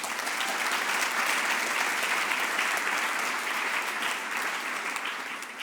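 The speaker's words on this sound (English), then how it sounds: "please give a big round of applause to our very own Hervé Kösele." A large audience at an evening speakers event at the European Forum Alpbach breaks into a sustained round of applause, dense steady clapping that fills the whole stretch and tapers slightly at the end.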